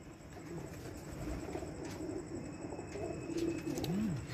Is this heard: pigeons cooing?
yes